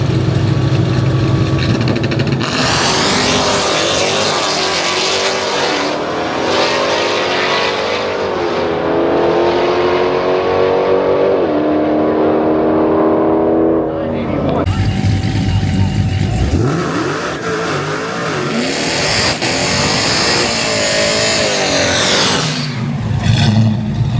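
Frostbite, a drag racing truck at a Mopar drag event, makes a test pass: engine revving and idling, then a long, loud climbing acceleration with rising pitch, a brief cut, then more revving with some talk.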